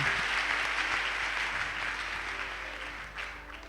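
A church congregation claps in a sustained burst of dense, fairly loud applause that fills the room, then gradually fades toward the end.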